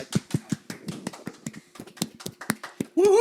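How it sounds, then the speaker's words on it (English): A small group applauds with a rhythmic run of sharp, evenly spaced claps, close by, ending in a brief voiced tone. "everybody around here is clapping except for Scott"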